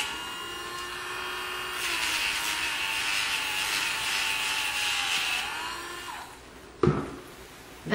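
An electric grinder-style nail file buzzes steadily against a dog's nails as it is rolled back and forth, a faint motor whine with shifting pitch ending in a few brief knocks.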